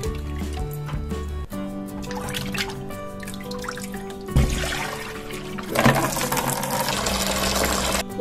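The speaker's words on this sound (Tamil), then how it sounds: "நம்ம மூணாவது டைம் இப்போ நம்ம அலசி எடுக்கிறோம்." Water splashes and trickles while kizhangan fish are rinsed during cleaning, with running water, drips and sloshing shifting in intensity, close and fairly loud.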